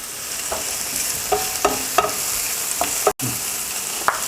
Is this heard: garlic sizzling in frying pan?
yes